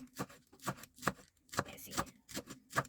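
Green onions are chopped with a knife on a board, with about seven firm, evenly spaced thuds close by and no talking.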